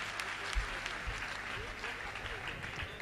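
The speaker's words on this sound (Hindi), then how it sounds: "आप सबका मन हो तो एक बार जोरदार तालियों" An audience at a poetry gathering claps together, a faint, even patter of applause that carries on without a break.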